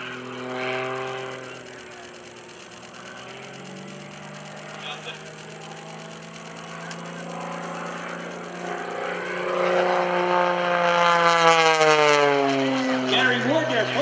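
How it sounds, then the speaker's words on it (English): Gary Ward's 390-horsepower MX-2 aerobatic airplane drones with its propeller engine, the pitch sliding up and down through manoeuvres and growing louder toward the end, under a commentator's talk. "Gary Ward and a 390 horsepower MX-2. Rolls the airplane inverted, and away we go."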